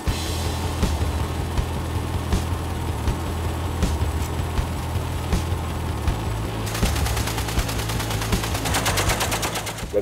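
Suppressive gunfire from a military helicopter during a training exercise comes as rapid, repeated bursts of shots over a constant rotor and engine drone, loud and continuous throughout.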